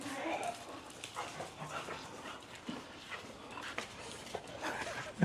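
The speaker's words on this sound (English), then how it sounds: "So now for the fun part, let's go get the dogs." Excited dogs being fetched for a ride in a Cybertruck, giving scattered short whimpers and yelps amid shuffling movement, fairly close, with people talking over them.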